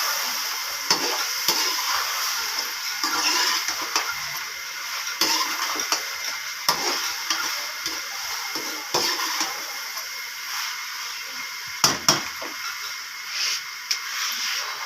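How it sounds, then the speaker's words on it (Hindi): Food for macaroni is mixed and stirred in a hot frying pan, soft continuous sizzling under repeated scraping and clinking of a spoon against the pan, with no voices. "अभी जी हम इसको कर देते हैं अच्छी तरह से मिक्स।"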